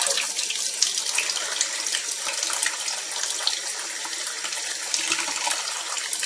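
A kitchen tap runs steadily in an old house while waiting for hot water, a loud, continuous splashing hiss into a sink with no pauses or talk.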